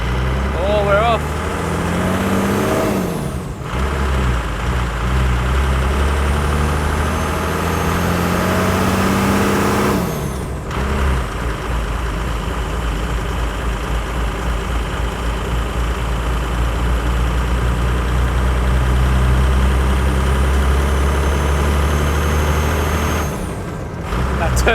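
A Toyota HJ75 Troopy with a turbo engine drives up a straight, making a loud, steady low rumble throughout. Its drone breaks off briefly a few times, as if shifting gear.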